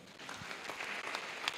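Audience applause for a student at an annual lecture of the Chief Judge of the FCT High Court, a continuous patter of clapping from a crowd at moderate distance, fairly soft.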